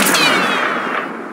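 Gunfire in the war game Mud and Blood, a loud, dense crack of shots with ringing decay, filling a short burst with no voices.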